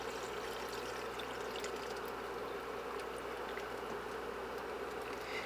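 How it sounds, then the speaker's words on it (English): Water pours into a wok for low-carb chicken soup, a steady, even splashing and trickling that runs unbroken throughout at a moderate level, with no talking. "I'm going to add about 16 ounces of water"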